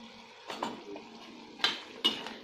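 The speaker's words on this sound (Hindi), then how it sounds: "मिक्स कर लेंगे।" A spoon scrapes and clinks against a pan while cauliflower, pea and potato curry with spice is stirred, giving a few sharp metallic knocks over a soft sizzle, close and moderately loud.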